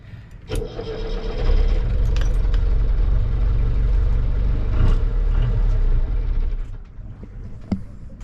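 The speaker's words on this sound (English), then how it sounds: "Let's turn the motor on and see if we have to bleed it." A sailboat's small motor, suspected of having air in its fuel line, cranks and catches, then runs steadily and loudly for several seconds before cutting out, with a few clicks and clunks around it.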